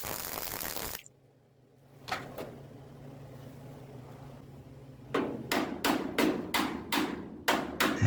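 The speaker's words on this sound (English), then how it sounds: "And just tapping that down slightly." A hammer taps down a welded metal panel on a 1962 Impala during restoration, a few sharp isolated strikes after a brief burst of noise, then a quicker series of ringing taps near the end, close and alone.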